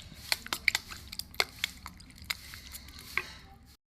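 Flour and water batter being mixed by hand in a bowl, soft wet slaps and squishes coming in uneven bursts, close and fairly quiet, then stopping.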